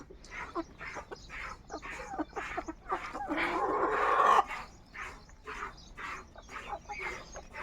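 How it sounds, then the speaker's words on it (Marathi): Free-range village chickens cluck and cackle in short repeated bursts at a moderate distance, with a louder squawking stretch in the middle; faint voices underneath. "गावरान कोंबड्यात"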